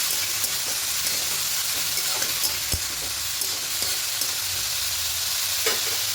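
Bottle gourd curry with turmeric, cooked with a hilsa fish head, stirred in a hot pan, giving a dense, continuous sizzle with occasional spatula scrapes, close and loud, no voices.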